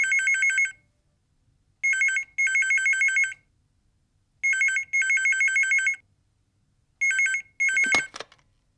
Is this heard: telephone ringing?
yes